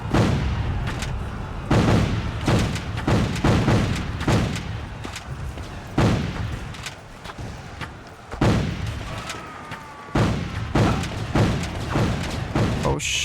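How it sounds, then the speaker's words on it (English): A Gatling gun fires in a Civil War strategy video game: booming, rapid bursts of gunfire and heavy thuds that come in repeated volleys, loud and close, with short gaps between them. "how's the Gatling gun still hitting me?"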